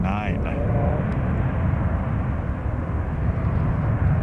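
Loud, steady roar of an airliner's jet engines at San Francisco International Airport, heard close with a deep rumble, while a voice talks over it briefly at the start.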